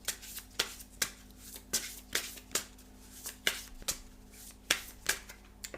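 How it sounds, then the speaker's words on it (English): A tarot deck being shuffled by hand, with a steady series of crisp card riffles and snaps repeating every half second or so, close and fairly quiet with no talking. "And I'm going to shuffle."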